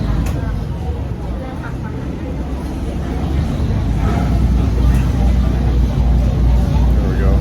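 A river boat engine rumbles steadily up close while docking on a trip from Bangkok to Ko Kret, growing slightly louder toward the end, with wind buffeting the microphone.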